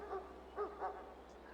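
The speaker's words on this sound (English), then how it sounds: "Oh, barking. I heard barking." A dog in a Farming Simulator 22 game gives three short, soft yipping barks at moderate distance over a faint steady background hum.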